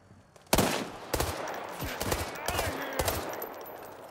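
Several sharp gunshots crack out in the online shooter World War 3, spaced irregularly, close and loud over a low background hum of battle.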